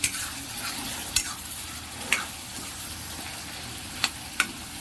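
Masala and tomato fry in a pan for a raw mango fish curry, giving a steady close sizzle broken by about five sharp scraping clinks as a spoon stirs.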